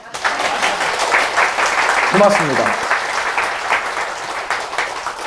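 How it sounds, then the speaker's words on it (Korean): Audience at a Buddhist dharma service led by a monk gives a dense, steady round of applause, loud and continuous throughout, with a brief voice speaking partway through. "박수는 항상 크게."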